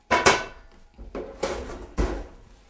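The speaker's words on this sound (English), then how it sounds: "I'm going to get, while I'm here, my frying pan." A frying pan is pulled out in a home kitchen while kafta is being cooked, giving a few sharp clattering knocks of metal and wood spaced about half a second apart, close and fairly loud, with no talking.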